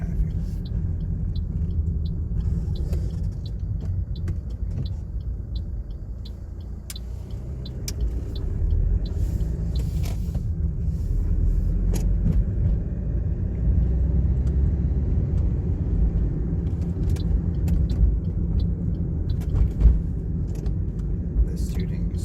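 A car drives along a one-way road during a driving lesson, its steady engine rumble and road noise continuous and close throughout, with faint ticks and small bumps over the hum.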